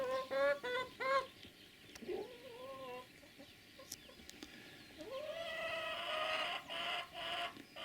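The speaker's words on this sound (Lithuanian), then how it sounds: "Viena višta, daug vištų. Ir vienas gaidys." Chickens cluck and a rooster calls on a small sheep farm, a series of close, moderately loud clucks and calls with short gaps between, no talking.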